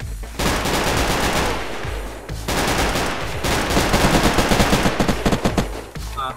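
Gunfire rings out in the video game Unturned, with dense bursts of shots that end in a run of rapid, evenly spaced automatic rounds, loud and close.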